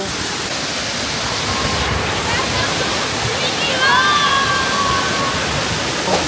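Steady broadband rush of Cambugahay Falls, a waterfall in Siquijor, roaring close and constant; a few bird chirps rise above it near the middle.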